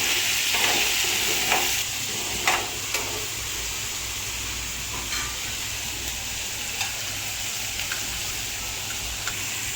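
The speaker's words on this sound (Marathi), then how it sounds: "आणि भिजवलेले काजू ते पण मिक्स करून घ्यायचं। सगळ्याला व्यवस्थित फ्राय करून घ्यायचं।" Soaked cashews and masala fry in a pan and are stirred, giving a steady sizzle broken by sharp scrapes and clinks of the spoon, with no talking.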